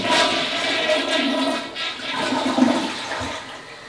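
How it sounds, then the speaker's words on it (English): A toilet flushing close by, a loud, steady rush of water lasting several seconds without easing. "Flush that thing."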